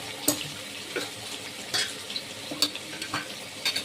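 Ginger-cumin paste frying in a pan for a katla fish curry, with a steady soft sizzle broken by several sharp scraping stirs of a spoon against the pan, close and moderately loud, no talking.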